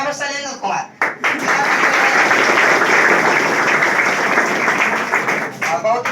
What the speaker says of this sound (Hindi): जोरदार इनको तालियों से स्वागत